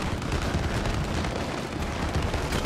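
Fireworks exploding in the video game It Takes Two, a loud, dense barrage of overlapping booms and crackles that runs continuously without any pause.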